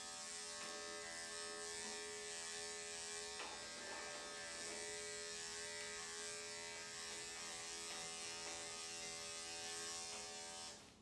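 Electric clippers fitted with a one guard trim a doodle puppy with a steady, close mechanical buzz and a constant whining hum, with brief rustles as the blade moves through fur.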